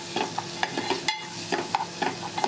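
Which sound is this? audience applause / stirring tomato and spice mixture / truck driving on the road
stirring tomato and spice mixture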